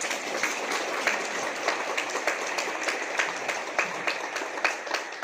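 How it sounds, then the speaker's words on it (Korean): A church congregation in Wangsong, South Korea applauds warmly, dense steady clapping from many hands filling the space at an even level throughout, with faint voices mixed in. "뜨겁게 박수합니다."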